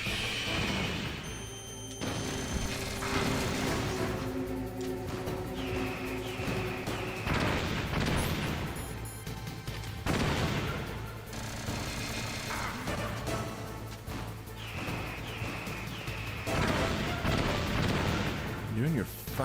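Heavy missile explosions from a tank battle in the Metal Gear Solid video game, several loud booming blasts spaced through a dense, noisy game soundtrack, with a voice talking in places.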